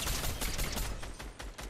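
Rapid bursts of gunfire in Fortnite Reloaded Zero Builds, aimed at a bush, with repeated sharp shots in a fast, uneven rhythm that stays loud and close for the whole moment.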